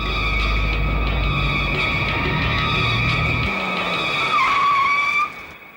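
A car skids hard to a stop, a loud, sustained tyre squeal with engine rumble that drops away midway, the screech wavering and ending abruptly.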